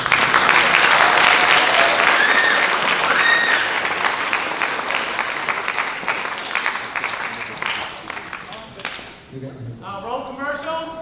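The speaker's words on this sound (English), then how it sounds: "So one round of applause for Mr. Hain." A school film assembly audience gives a loud, dense round of applause honoring a staff member, steady at first and thinning out toward the end as voices and talk take over.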